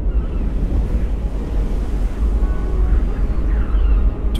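Strong wind and rough sea surf roar steadily around a boat crossing the North Sea in winter against heavy headwinds, a dense, continuous low rumble that stays close and loud throughout.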